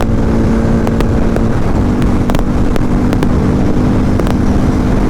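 KTM Duke 250 and Harley-Davidson X440 motorcycles accelerating hard side by side in a drag race, loud steady engine drone with a gear shift partway and rising pitch, close and constant.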